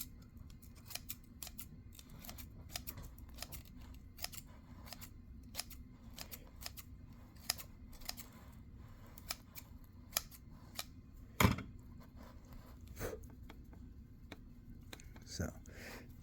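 Scissors snip along the edges while a bougainvillea bonsai is repotted, a close series of quick, crisp cuts in an uneven rhythm over a quiet background, with a few louder snips.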